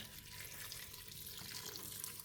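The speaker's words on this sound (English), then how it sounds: "we're going to put in the water." A steady, faint rush of water pouring continuously into a pot of red beans with salt and pandan leaf, hissy and even throughout, with no voices.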